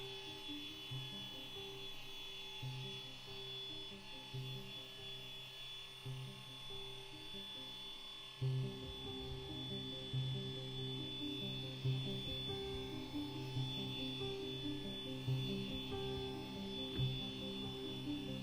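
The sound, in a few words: polisher buffing marine isinglass plastic with Novus polish, low speed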